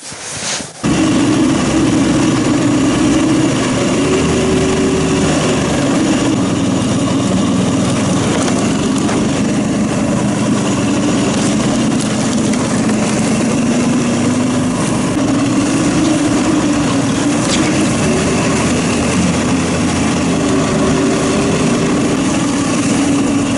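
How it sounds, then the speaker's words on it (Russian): A motorized dog, a compact mini snowmobile, runs steadily and loudly close by for the whole stretch, its engine holding a continuous drone with slight rises and falls in pitch, out in snowy country with no voices. "побаловались с мотособакой, то бишь мини-снегоходом"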